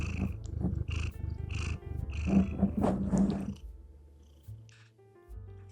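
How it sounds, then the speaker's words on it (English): A domestic cat purrs close up with a rough, rhythmic rumble in repeated pulses, loud at first and then fading to quieter, softer purring toward the end. "Here's some purrs."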